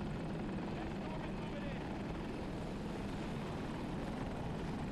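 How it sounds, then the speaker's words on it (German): A KA-520 Super Hokum attack helicopter in a video game hovers on the Hourglass map, its rotor and engine making a dense, continuous roar that stays steady and loud for the whole stretch. "Attack-Heli bei Bravo 1."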